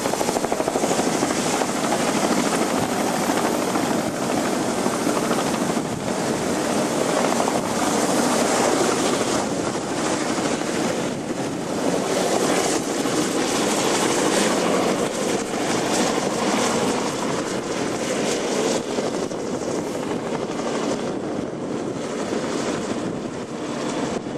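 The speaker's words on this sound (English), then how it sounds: "Wait for the helo to lift off." A navy helicopter runs on the deck of the supply ship USS Niagara Falls, a loud, steady rotor roar with wind buffeting the microphone, sustained at close range with no speech.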